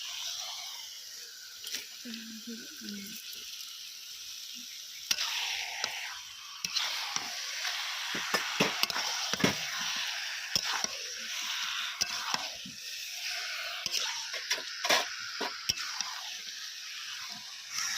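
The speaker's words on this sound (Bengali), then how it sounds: "চিকেনটার পরিমাণ অনেকটা সেই জন্য নাড়তে অসুবিধা হচ্ছে" A large amount of chicken curry with potatoes gets stirred in a pot, with repeated scraping and wet squelching knocks from the spoon, irregular and close, over a soft sizzle, with occasional faint voices.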